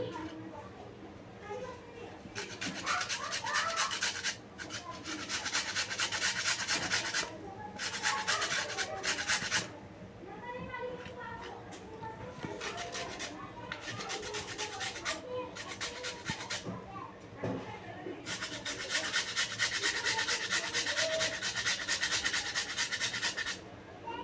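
Washed potato rubbed against a hand grater for rava pakoda, a steady close rasping scrape in repeated bursts with short pauses, over faint background noise.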